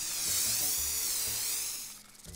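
An aerosol spray can hisses continuously at roaches in the video game The Tenants, a close, loud, wavering spray of about two seconds that tapers off at the end, with soft low thumps underneath.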